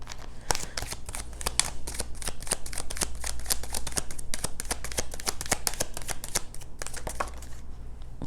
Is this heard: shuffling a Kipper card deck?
yes